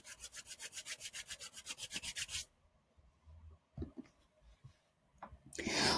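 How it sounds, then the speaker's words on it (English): Two hands rubbed briskly together, a fast series of close, dry swishing strokes for about two seconds, followed by quieter scattered rustles and a final louder rasp. "You hear a sound when you rub your hands together."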